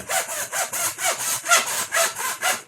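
Hand-sawing a tube with steady back-and-forth strokes, about nine rhythmic rasping passes in under three seconds, close and fairly loud with no talking.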